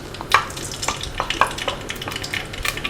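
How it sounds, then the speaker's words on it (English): Palm oil crackles and sizzles in a hot pot at the start of a Ghanaian tuozaafi stew, a steady close frying hiss with scattered sharper pops. "So first of all, you add your palm oil"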